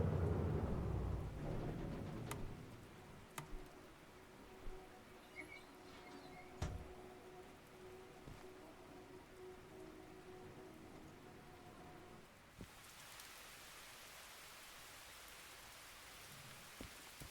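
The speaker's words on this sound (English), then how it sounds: "how long it's going to rain for" Rain patters steadily on surfaces in the Derail Valley train game, with a rumble of thunder early on, a few sharp cracks, and a hiss of heavier rain toward the end.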